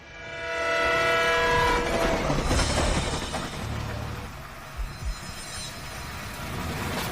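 A passing train rumbles steadily along the track while its horn blares loudly near the start with a sustained harmonic tone, then the rolling clatter of rail cars continues without voices.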